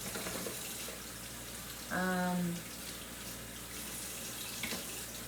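Water runs steadily from a kitchen tap, a soft broadband rush through the whole stretch, with a brief, loud tonal squeal about midway.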